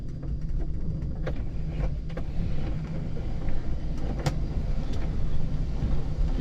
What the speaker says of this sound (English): Alright, shutting off the truck. I'm gonna roll into my spot.